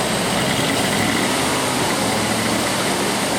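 A Ford engine with EEC-IV ignition and a misfire runs with its RPM held up, giving a steady, loud, continuous drone with no pauses and no voices.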